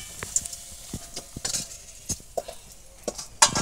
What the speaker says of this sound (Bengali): অল্প একটু ঢাকা দিয়ে দিয়ে ভাজবো আলুগুলো